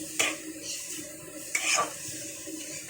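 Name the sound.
cooked greens being scraped out of a wok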